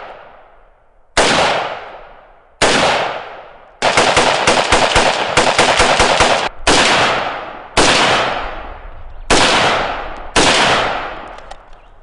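A Hulger Mark IV carbine chambered in 5.45 fires at a range. Loud, close strings of rapid gunfire come in short bursts and one longer sustained burst, each ending in a ringing echo that fades before the next.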